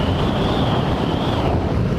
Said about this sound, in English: Like today's a little windy day, and I don't feel like I'm being blown all over the road